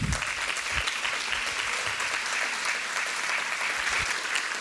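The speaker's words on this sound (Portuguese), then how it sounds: "Ok, aplauda Jesus." Applause from an audience at a church finance workshop, a steady, dense wash of clapping filling the room, loud and continuous with no talking over it.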